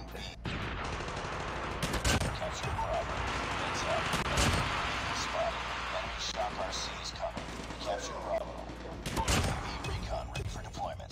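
Shotgun blasts from Call of Duty gameplay ring out in a dense, noisy firefight, with several sharp loud reports at intervals over constant game noise and background voices.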